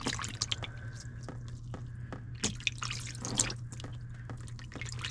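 Fluid drips and trickles from the oil pan of a 1950s Galion road grader, with scattered irregular drops and small splashes over a steady low engine-like hum, fairly close.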